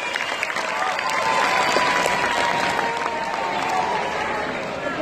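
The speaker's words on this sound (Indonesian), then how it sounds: "tepuk tangan untuk Norma dari 8C." Applause from a school audience of junior high students at a student council candidates' presentation, a steady dense wash of clapping that holds loud throughout, with some voices mixed in.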